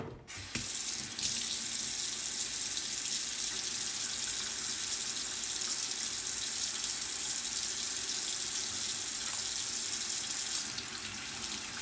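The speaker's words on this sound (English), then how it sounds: "Step 7, wash your hands." Tap water runs steadily into a sink for hand washing, a loud continuous hiss and splash that starts abruptly and holds evenly for about ten seconds before easing, with no voices.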